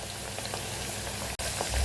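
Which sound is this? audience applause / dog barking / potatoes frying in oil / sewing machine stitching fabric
potatoes frying in oil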